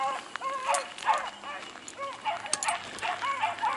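A pack of beagle hounds bays and yelps while running a rabbit outdoors, repeated rising howls from several dogs at mid distance over a low background rumble.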